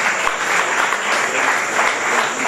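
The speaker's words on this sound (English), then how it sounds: "let's keep clapping" Audience applause at a closing ceremony where medals go to champions, a thick, continuous patter of many hands clapping that swells slightly in waves throughout.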